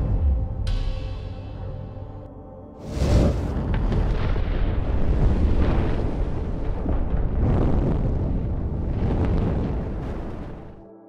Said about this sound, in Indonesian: Ledakan tersebut mencegah ledakan yang lebih besar terjadi